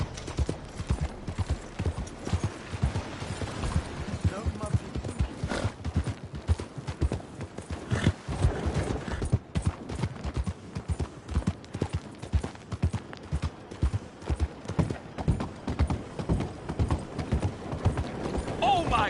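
Horse galloping in the Western video game Red Dead Redemption 2, with rapid, loud hoofbeats drumming steadily throughout, a brief whinny, and a voice speaking over them.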